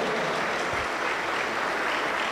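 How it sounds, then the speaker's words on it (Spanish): A Pentecostal church congregation applauds during a service, a dense, even wash of many hands clapping together, steady and moderately loud throughout with no distinct voices standing out. "aplauso para el Señor Jesús."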